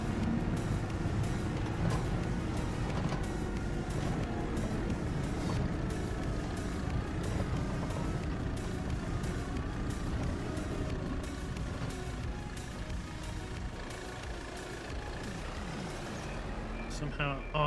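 A 100 to 200 horsepower tractor engine in Farming Simulator 22 drones steadily and loudly throughout during autumn field prep, a low continuous rumble with a voice talking over it.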